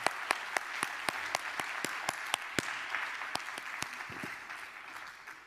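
A small audience applauds after a talk, with a few loud, distinct claps standing out near the microphone over a softer spread of clapping that gradually thins out.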